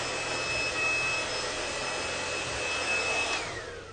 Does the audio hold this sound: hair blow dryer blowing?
yes